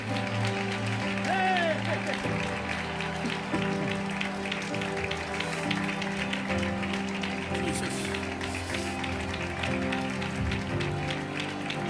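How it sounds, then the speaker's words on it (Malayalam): A congregation claps their hands during Malayalam Christian worship, a continuous rhythmic patter of many hands mixed with voices and music in a reverberant hall. "കൈയടിക്കുന്ന നല്ല കൈയടിച്ചിരിക്കുക."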